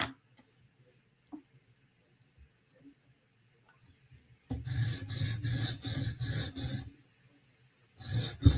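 A blade edge sharpened by hand, with quiet small clicks at first, then a run of six rhythmic rasping strokes, close and distinct, and another stroke after a short pause.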